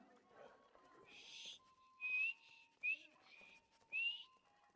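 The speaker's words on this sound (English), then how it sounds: "I'm just randomly going around whistling at everyone" A character in the video game Skyrim whistles several short rising tones in quick succession, mixed with a murmur of in-game chatter and a low steady background tone.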